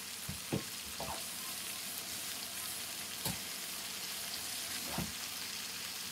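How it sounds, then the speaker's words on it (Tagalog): Marinated chicken sautéing in a pan, a steady hiss of frying throughout with occasional brief utensil scrapes and knocks. "Marinated na yung chicken natin. Gigisa lang natin to"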